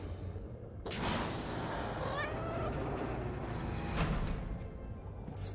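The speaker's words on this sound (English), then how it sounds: "Space cat!" A cat meows a few times in an episode of Star Wars: Ahsoka, faint and wavering, set within a dense whooshing sci-fi soundscape with swells of noise.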